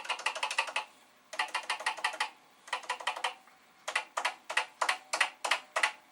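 Typing on an original Commodore VIC-20 keyboard, built the same as the Commodore PET's, comes in four quick bursts of close, crisp clacking keystrokes separated by brief pauses.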